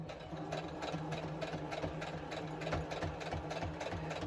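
A sewing machine stitches quilt rows together in a steady, continuous whir with a low motor hum throughout, fairly close and alone without talk.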